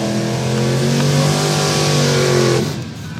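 1984 Chevy S10 truck drag racing off-road against an 1983 S10 on a quarter-mile strip, a loud roaring engine at high revs, close and sustained, then tapering off as it passes.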